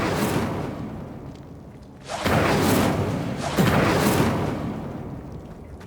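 Casting the Incendio fire spell in Hogwarts Legacy produces two loud whooshing, roaring bursts of flame, each swelling and fading over about a second and a half, over continuous low game ambience.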